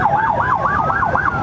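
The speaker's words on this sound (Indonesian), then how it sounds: "Waduh, ada ambulans." An ambulance siren wails on a road along the Pantura route in Java, its pitch sweeping up and down in a steady repeating cycle, loud and close over the rumble of traffic and a riding motorbike.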